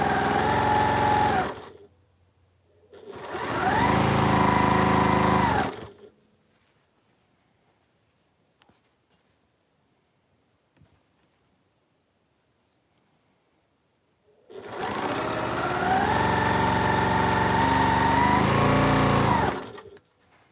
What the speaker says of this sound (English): I am stitching all of these together